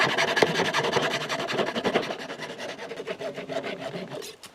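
A 3/4 inch pipe being hand-sawn to a one-foot length, giving a steady rasping cut of repeated back-and-forth strokes, fairly loud and close, with no talking.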